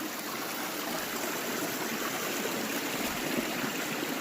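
Water of a secluded forest creek flowing steadily over rocks, a constant close rushing and trickling hiss with no voices.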